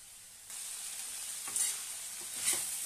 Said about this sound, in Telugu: కొంచెం ఆయిల్లో పెట్టి కలుపుతూ ఉంటే వేగమే మగ్గిపోద్ది.